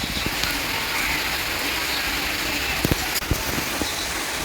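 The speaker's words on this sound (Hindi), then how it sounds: "भयंकर बारिश हो रही है।" Heavy rain pours steadily and loudly, a dense wash of drops on surfaces, with a few sharper drips and knocks near the end.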